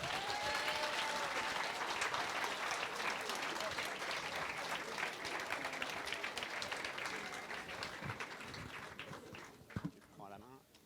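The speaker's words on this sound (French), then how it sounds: "Nous appelons sur scène sous un tonnerre d'applaudissements Léo." A school slam poetry show audience bursts into loud, dense applause for a performer on stage. The clapping is sustained with scattered voices and cheers, then thins and fades toward the end.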